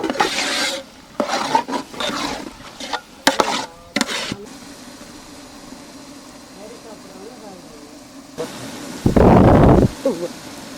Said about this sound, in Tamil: அரைச்சி வச்ச தக்காளி போட்டுக்கிறோம்